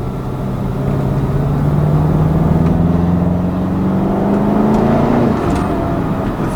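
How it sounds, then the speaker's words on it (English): A stock 2011 BMW X5 M engine pulls hard under acceleration, its pitch sweeping upward in a steady rising drone from inside the cabin, loud and continuous with no talking over it. "It makes a really satisfying little pop on the upshifts."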